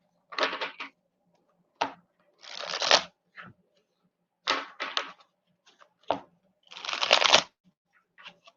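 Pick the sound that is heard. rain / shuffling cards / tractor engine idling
shuffling cards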